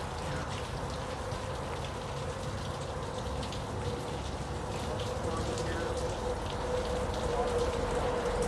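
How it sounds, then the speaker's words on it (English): Rain drips from rocks and foliage overhead along an abandoned Erie rail line on a wooded hike, a dense, continuous patter of drops close by with no voices. "Just raining behind me."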